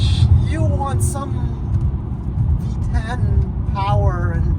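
A BMW M6 V10 engine with a manual gearbox rumbles steadily with low-pitched throbbing, briefly revving higher a few times, while a person talks over it.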